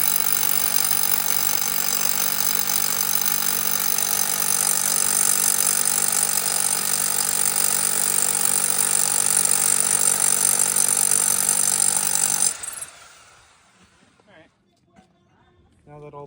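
Power tool chipping out material on an old truck, a loud continuous buzzing hammer that runs steadily for about twelve seconds, then cuts off abruptly into near quiet with faint clatter.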